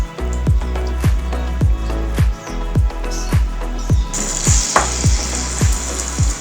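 Malai puri (malpua) batter frying in a pan, with a steady bright sizzle, low rhythmic bubbling pops and a later burst of hissing as more batter hits the oil, close and loud.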